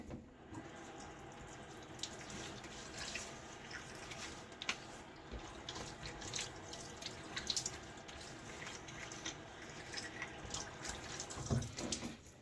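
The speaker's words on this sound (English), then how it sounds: "Quick rinse." Tap water runs softly and continuously while a razor is rinsed during a shave, a faint trickling stream with occasional drips and light clinks, no voices.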